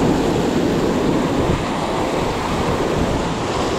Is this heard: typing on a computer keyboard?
no